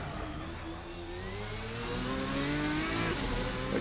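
A Ferrari 550 GTS (550 Maranello) GT1 car in a racing video game, its engine climbing under full throttle on the Nordschleife, a steady loud rising whine with a building harmonic sweep, no talk over it.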